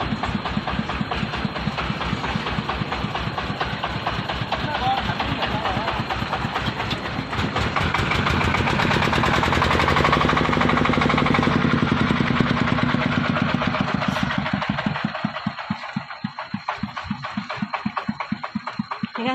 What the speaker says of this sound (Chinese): 你看这张拖拉机这里，下雨天路不好，烫进去了，刚刚把它拖出来